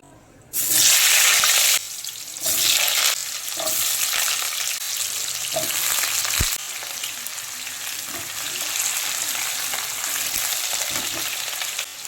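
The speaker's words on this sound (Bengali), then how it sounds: "আর এই যে এখানে আলু ডুমো ডুমো করে কেটে নিয়েছি, এবার আলুগুলোকে ভেজে নেব।" Diced potatoes hit hot mustard oil in a kadai with a loud burst of frying, then settle into a steady, continuous sizzle broken by occasional stirring clinks.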